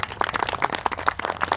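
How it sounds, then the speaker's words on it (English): Outdoor crowd applause at a Stirling Bridge commemoration in Scotland, a dense run of hand claps spread evenly across the whole moment with no one talking over it. "Right, let's give a wee applause,"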